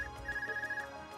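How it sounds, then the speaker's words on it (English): An Arcus communication device rings in the video game Trails of Cold Steel: a steady, fairly quiet electronic tone that pulses in a quick repeating pattern for about a second, with no voices over it. "Is that your Arcus ring? What's it doing ringing out here?"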